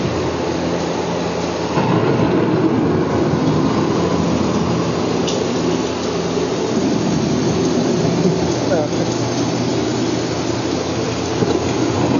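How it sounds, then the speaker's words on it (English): Thunderstorm with steady rain on a dark ride through EPCOT's Living with the Land, a loud continuous rushing wash with low rumbling swells throughout. "The approaching storm may seem violent and destructive to us, but to nature, it's a new beginning in the cycle of life."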